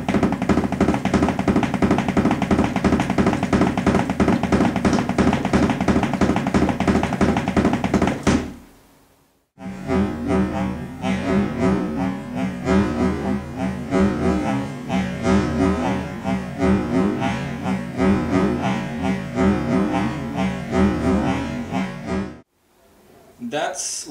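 Bass drum struck with both feet using heel-toe technique, giving a fast, steady stream of thuds. A dense first stretch is followed by a brief pause and a second longer run, loud and close.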